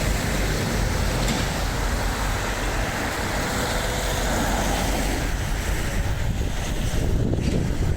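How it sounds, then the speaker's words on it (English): Strong wind blows steadily outdoors, a loud, continuous roar buffeting the microphone throughout with no break, with no voices. "It's quite windy today"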